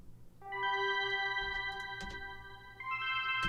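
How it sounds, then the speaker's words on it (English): A synthesized sparkle sound from a future bass track plays alone, bright layered tones outlining a chord in a sustained shimmer, then shifting to a new chord near the end. "Sparkle sound by itself sounds like this."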